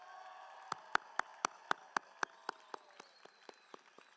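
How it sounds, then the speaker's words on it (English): Sparse applause at a university diploma ceremony for business graduates: about a dozen distinct, evenly spaced claps, crisp and fairly close, gradually softening, over a quiet background. "Let's give them another round of applause."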